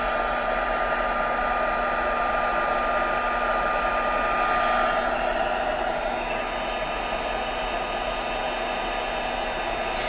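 A heat tool or dryer blows continuously while drying a papercraft project, a steady loud airy roar with a faint hum and no pauses or talking.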